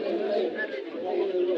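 Pigeons coo softly at a busy pigeon market in Bangladesh, a low continuous murmur of cooing close by that blends with people talking.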